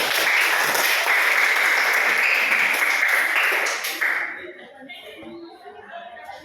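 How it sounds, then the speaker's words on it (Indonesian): Classroom applause from students, a dense, steady wash of clapping for about four seconds that then drops off abruptly, leaving quieter room noise and faint voices. "Tepuk tangan dulu."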